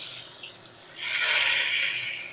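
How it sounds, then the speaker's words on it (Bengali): Pointed gourd (potol) pieces going into hot mustard oil in a kadai, a broad hissing sizzle that swells suddenly and then settles into a steady, fairly loud crackle. "এই তেলের মধ্যে পটলগুলো ভেজে নেব"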